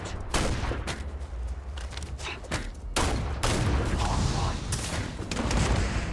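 Gunfire in the space game Starfield crackles in dense bursts, sharp shots repeating close and loud over a rumbling low mix, with a brief speaking voice underneath.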